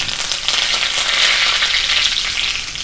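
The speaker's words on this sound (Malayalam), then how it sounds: "തീ ഓഫ് ചെയ്തിട്ട് ഞാനിപ്പോൾ ഇടുന്നത് ആദ്യം വേപ്പില" Curry leaves dropped into hot oil with mustard seeds, the heat just switched off, giving a loud, close, bright crackling sizzle that runs steadily for about three seconds with no talking.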